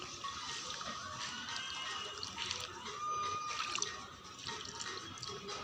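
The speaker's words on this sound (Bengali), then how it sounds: "বসিয়ে এর উপরে একটু জল দিয়ে দিতে হবে।" Water trickles in small amounts onto loose soil around a freshly planted chilli plant, a soft, faint, wet pattering with no voices.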